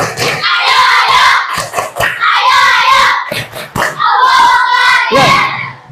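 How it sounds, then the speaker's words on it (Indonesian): Schoolchildren in an Indonesian classroom perform the tepuk semangat spirit clap, chanting loudly in unison between bursts of rhythmic group clapping, near and energetic. "tepuk semangat."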